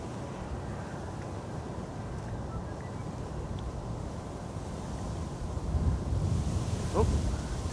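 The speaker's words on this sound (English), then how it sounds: "And now I can hear the engines of SAS as well." Distant SAS airliner jet engines rumble at Amsterdam Schiphol Airport, a low, steady roar that swells slightly near the end beside the runway, mixed with wind buffeting the microphone.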